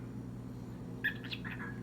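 A pet parrot gives a quick cluster of faint, high chirps at mid-clip, soft and close against a low indoor hum.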